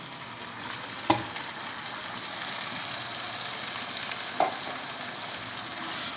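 Chopped tomatoes and spices fry in a pan for a lauki chana dal, with a steady close sizzle and two brief clinks of stirring.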